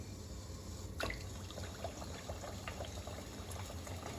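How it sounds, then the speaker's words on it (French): Bokit dough frying in hot oil over medium heat: a steady, soft bubbling sizzle with faint crackles and one brief louder splash. "dans une huile bien chaude, on met les bokits"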